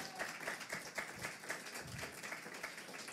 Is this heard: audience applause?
yes